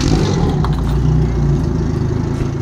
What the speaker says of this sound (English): start the engine, get it running.